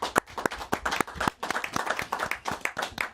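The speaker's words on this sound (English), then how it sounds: "Give him a big round of applause." A small audience claps for the player of the week at a football-themed legends night, a sparse group of distinct, uneven hand claps, fairly quiet and close, with no talk over them.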